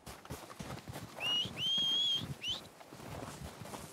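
Horse hooves clip-clop steadily on the ground in the Red Dead Redemption game, a moderately close, even rhythm with a few brief high whistle-like tones over it.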